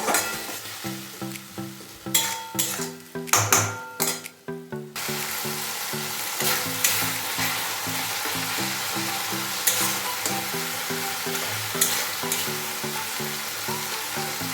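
A ground paste of bean seeds, ginger, garlic and green chilli hits a hot pan with a few sharp spits and scrapes, then settles into a steady loud sizzle with rhythmic stirring, no voices.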